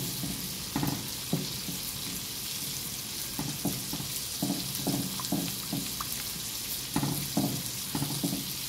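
Carbonara ingredients with bacon stirred in a frying pan, a steady sizzle under repeated scraping and clinking strokes of a utensil against the pan, close and fairly loud.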